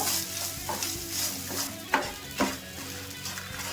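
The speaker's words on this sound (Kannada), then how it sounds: "ಇವಾಗ ಇದನ್ನು ಸ್ವಲ್ಪ ಬಿಸಿ ಮಾಡಿಕೊಂಡ್ರೆ ಸಾಕು" Grated coconut and chilies roasting in a pan, a steady close sizzle with a few sharp spatula scrapes and stirring knocks against the metal.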